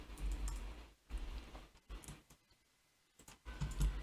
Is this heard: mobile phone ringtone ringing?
no